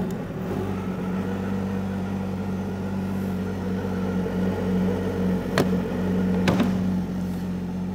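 A 2023 Expedition G4 snowmobile engine runs at a steady idle with a droning hum and low rumble, close by. Two brief sharp clicks sound late in the clip. No one speaks.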